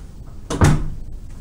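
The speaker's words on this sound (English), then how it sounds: "I'm just gonna go shut the door" A room door is pushed shut indoors, a single soft thud with a brief rattle, close by against quiet background noise.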